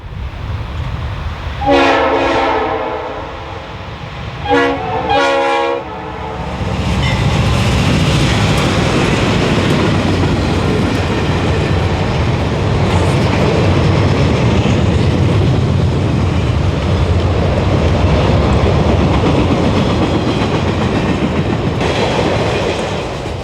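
A westbound Conrail general merchandise freight train rolls down the long descending grade at Summerhill, two horn blasts sounding before a loud, sustained roar of wheels and cars passing close by for many seconds.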